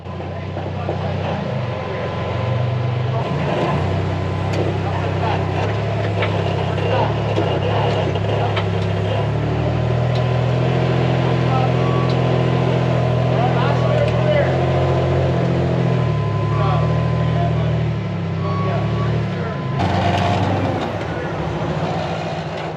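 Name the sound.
rock crawler 4x4 engine climbing over rocks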